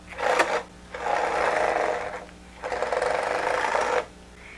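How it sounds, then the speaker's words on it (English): A small battery-powered electric motor driving a homemade robotic hand built from switches, a screw, a bolt and toothbrushes, whirring close by in one short burst and then two longer runs with gaps between. "When I push the switches, the motor either turns in one direction or another."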